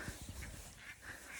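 A duck gives a few faint, hoarse quacks as it flies away outdoors on a cold spring day, spaced out and set against a soft, steady background.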